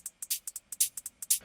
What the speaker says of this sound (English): So what helps with the movement is usually the hi-hats.